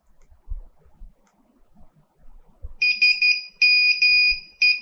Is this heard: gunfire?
no